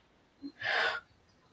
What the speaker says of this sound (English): We hear you breathing.